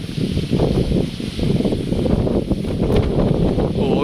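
Strong wind buffets the top of a mountain at an old volcanic crater in Khao Laem Ya National Park, Rayong, roaring loudly and unevenly against the microphone with gusty low rumbles and no speech.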